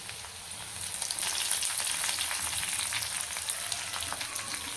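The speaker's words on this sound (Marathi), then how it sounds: "कढीपत्ता आहे ते पण टाकून घेते तेलामध्ये." Garlic and curry leaves fry in hot oil, giving a continuous close crackling sizzle with tiny popping spatters that holds at an even level throughout, with no voices.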